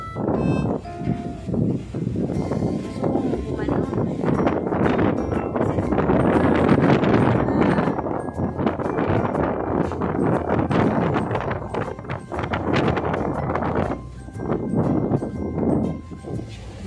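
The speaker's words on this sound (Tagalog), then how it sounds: "Grabe, super lakas ng hangin guys." Strong wind buffets the microphone on a sea crossing at Batangas Port, a loud, continuous roar with gusty swells, and faint voices occasionally come through underneath.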